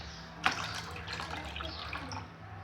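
Water pours and splashes in a steady trickle during a child's kitchen pretend play, opening with a sharp clink or drip and continuing with light, bubbly gurgles at moderate loudness.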